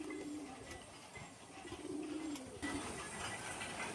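Pigeons coo in soft, low, rolling bursts, fairly faint and repeated over a quiet loft background with no talking.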